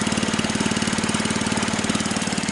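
A Bolens Husky 600 garden tractor with a Kohler K141 single-cylinder engine idles steadily, a close, even chugging pulse repeating rapidly throughout, with no speech.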